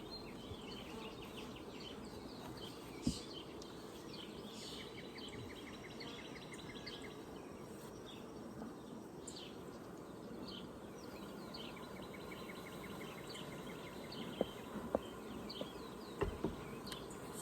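Honey bees buzzing around an opened hive during super box addition, a faint continuous drone with individual bees passing close, brief clicks and distant bird calls, no talk.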